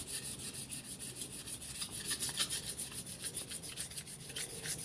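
A fine diamond file rasps rhythmically over a steel blade edge to polish it and remove burrs, a quiet, close scraping stroke repeating steadily back and forth.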